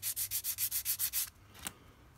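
Rapid rhythmic rasping strokes, about nine quick back-and-forth rubs of a sanding stick on the upper tank of a scratch-built model radiator, close and fairly quiet, then a pause and one faint scrape.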